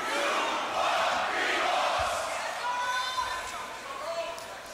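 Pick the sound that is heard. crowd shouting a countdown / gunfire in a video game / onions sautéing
crowd shouting a countdown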